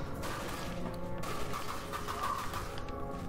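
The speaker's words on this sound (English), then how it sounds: "I'm still shooting you with a gun. A giant rifle, no less." Rifle fire from the video game Dirge of Cerberus pops in steady repeated shots over dense game music and ambience, moderately loud and partly blended into the background.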